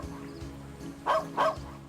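Two quick dog barks from Piero, a dog in the video game Trails of Cold Steel II, ring out in the middle of a quiet stretch of game ambience.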